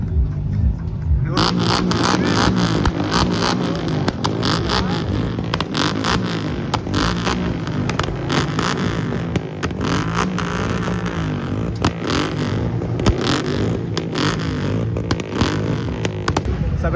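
Modified cars and motorbikes roar and rev continuously at a stunt show in Sawantwadi, loud and close, with engine bursts and crowd noise mixed in throughout.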